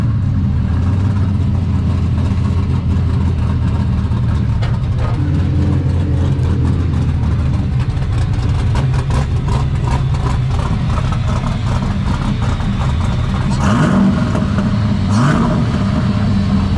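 A Ford Mustang Fox body race car at a retro Mustang meet idles with a heavy low rumble, lifting briefly into revs, loud and close amid outdoor crowd ambience.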